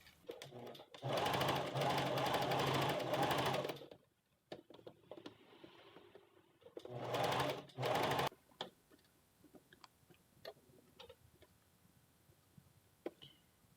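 Sewing machine stitching the collar of a western blouse, running loud in two steady bursts with a pause between, then quiet handling rustles and small clicks afterward.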